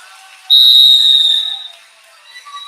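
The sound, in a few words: referee whistle ending wrestling period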